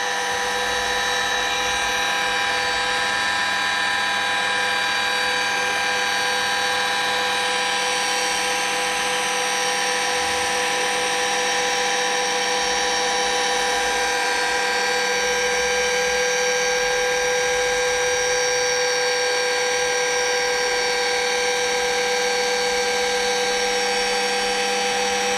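A rotary polisher spins with polishing paste on a car's paintwork, giving a loud, steady, high-pitched whine that holds constant throughout with no talking.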